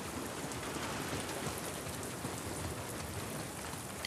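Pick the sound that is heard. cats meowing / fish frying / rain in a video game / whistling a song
rain in a video game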